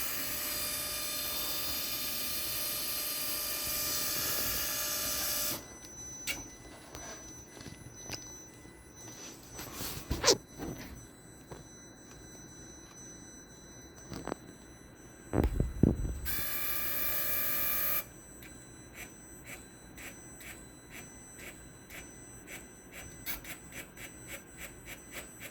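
Welding machine arms moving in welding mode give off a steady mechanical hum that stops abruptly, then a sparse quiet stretch with faint clicks and a few sharp whirring bursts of motion, before the hum briefly returns.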